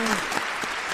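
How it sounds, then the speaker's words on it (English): Studio audience at a couples game show applauding the contestants, a short dense burst of clapping with voices mixed in. "Let us give our contestants a big applause"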